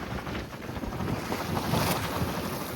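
Strong wind buffets a fishing boat at sea during the windy season, a steady loud roar of gusts and microphone wind noise over rushing water and waves, with no talk.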